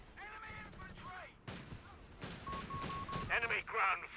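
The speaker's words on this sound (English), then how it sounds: "Panzer, you're getting gunned down by the Humber" Gunfire in the video game Company of Heroes 3, from a Humber armoured car, heard as scattered bursts of shots and electronic game beeps mixed with voices and radio-style game chatter.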